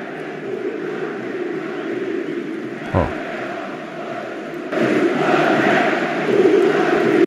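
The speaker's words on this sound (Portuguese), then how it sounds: "a gente tem aqui ainda a torcida cantando, né? O, o nome dele" Fluminense supporters in a stadium chant together in a steady roar, singing the name of midfielder André. Partway through, the massed voices swell and grow louder.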